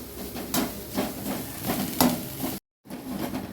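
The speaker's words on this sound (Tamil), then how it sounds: "அதையும் நல்லா போட்டு வறுத்து போடுங்க." Grated coconut roasting in a hot pan for a Chettinad ukkarai sweet, a steady dry sizzle with the rhythmic scrape of a spoon stirring through it, brief pause near the end.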